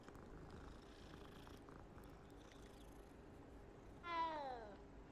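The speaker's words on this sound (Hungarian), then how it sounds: "Macska!" A cat purrs and then gives a short rising meow in Hogwarts Legacy, heard faintly over steady game ambience with the meow standing out near the end.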